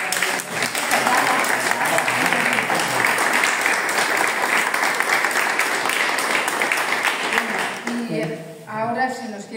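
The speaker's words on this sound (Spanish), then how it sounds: "Un aplauso para ellos." Audience applause at a charity art exhibition for flood victims in Valencia, honoring the two curators, steady dense clapping that fills the room for several seconds before tapering as voices emerge at the end.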